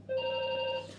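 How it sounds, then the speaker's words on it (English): A telephone rings once in a single steady electronic tone with a few harmonics, lasting just under a second. It is fairly clear and close against a low background hum, with no talk. "that's the phone going out, I'm sorry about that"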